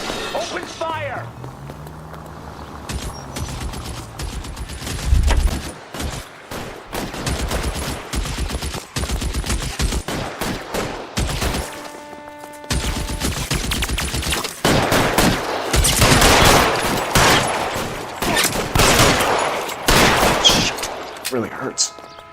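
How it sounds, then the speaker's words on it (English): Gunfire in the video game L.A. Noire, dense bursts of rapid shots and automatic fire crackling almost continuously for over twenty seconds, loud and close, with brief shouted voices mixed in. "Open fire!"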